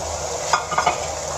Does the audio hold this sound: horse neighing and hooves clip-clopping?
no